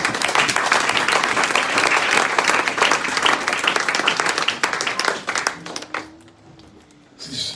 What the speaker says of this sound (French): On va acclamer les Seigneurs.